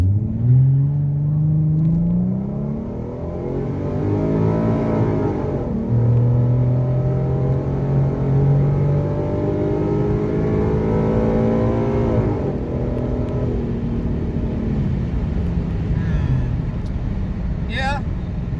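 A 2014 Ford Mustang with the 3.7 V6 pulls hard from a launch on a slippery road, its engine note climbing, dropping at the 1-2 shift, then rising again, loud and close, with a voice talking over it.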